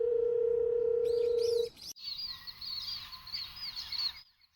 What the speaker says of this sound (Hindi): कुछ देर बाद उसने फिर से शालिनी का नंबर मिलाया।